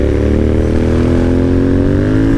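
A Royal Enfield GT650 motorcycle fitted with an AEW aftermarket exhaust revs loud and close, its engine note climbing steadily in pitch without a break.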